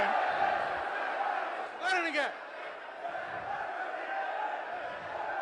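Opposition members in a Tamil Nadu legislative assembly raise a clamor of shouting voices, a continuous crowd din with one brief louder surge of yelling near the middle.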